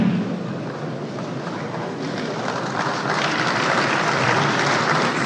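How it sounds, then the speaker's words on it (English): Sustained audience clapping at a stakeholder forum, a dense broadband wash of many hands that holds steady for several seconds and swells slightly toward the end, with no speech over it. "They want to take you, that's why they're clapping for you"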